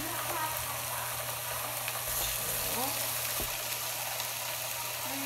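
Thin pork chops fry in a hot pan with a continuous, close, even sizzle and crackle, broken now and then by a faint shift or clink.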